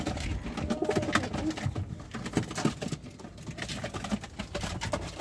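Pigeons in a coop coo softly in repeated low, throaty phrases, close and continuous, with light fluttering and shuffling patter mixed in.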